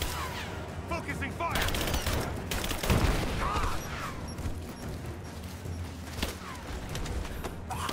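Enemy gunfire in Rise of the Tomb Raider rattles steadily through a constant busy game mix, with one heavier impact near the middle, under occasional talk.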